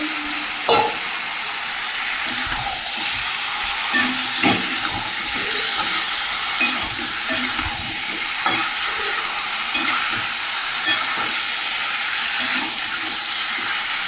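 Meat and pre-fried potatoes sizzle steadily in a pan over low heat, with intermittent scraping and clinking from a spoon stirring them close by.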